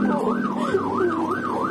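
An ambulance siren wails in a steady repeating up-and-down sweep, loud and continuous, with no talk over it.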